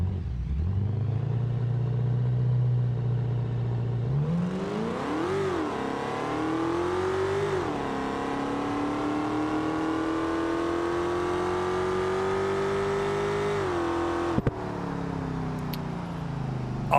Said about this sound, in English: Blower surge does not make this any better.